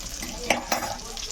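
A large fish tail fries in a pan with a continuous, close sizzle, broken by two brief clinks.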